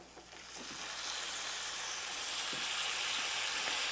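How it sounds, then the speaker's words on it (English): Sandwich slices pressed in a hot pan give a steady, close sizzle that builds and holds, a broad hiss of frying moisture with faint scraping, no talking. "That sizzling sound will tell you that you have pressed it hard enough"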